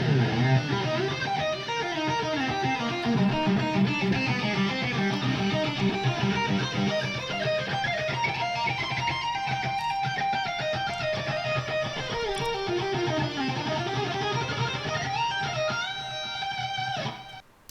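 A melodic electric lead guitar solo plays alone, with flowing runs and sustained bends at a steady moderate loudness until it stops.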